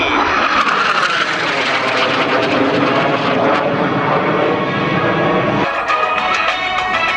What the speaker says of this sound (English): And F5 aircraft.